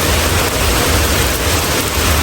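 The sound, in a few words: rain falling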